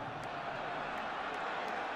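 Kansas City Chiefs home stadium crowd at a 2009 NFL game against the Giants, a steady, wide roar of many voices filling the whole stretch at an even level, with no single voice standing out.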